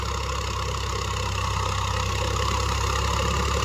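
Tractor engine idling slowly and steadily while a rotavator tills the field, a continuous low rumble with a loud, even drone and no voices over it.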